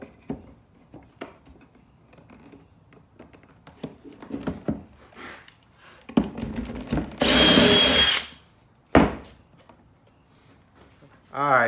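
A power drill boring a pocket hole through wood with a Kreg jig, one loud steady whir lasting about a second, preceded by clicks and handling of the jig and a voice talking nearby.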